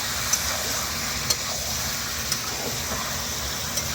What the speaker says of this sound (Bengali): মাংসটা একটু কষে নেবো।